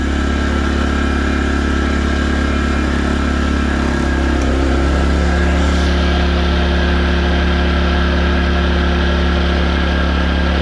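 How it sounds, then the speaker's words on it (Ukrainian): A generator runs loud and close as an electrical load from a hybrid inverter comes on. Its steady engine drone shifts in tone partway through and then holds even. "Пішло навантаження на генератор"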